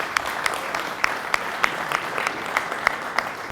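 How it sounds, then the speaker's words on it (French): An audience applauds at the official launch ceremony for Rumba Forever, a steady wash of clapping with a few sharper claps standing out at fairly regular intervals, held at an even level throughout. "Les applaudissements, s'il vous plaît."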